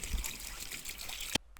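Running water draining out of a cleaned gutter, a brief steady trickle and splash that ends abruptly with a sharp knock, close and fairly loud.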